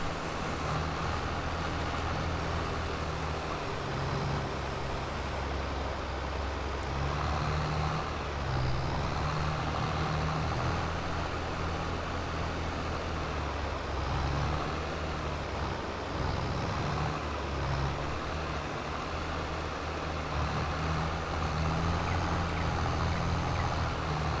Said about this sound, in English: one of my favourite tractors in the entire game. Super duper nippy, brilliant turning circle, powerful as anything.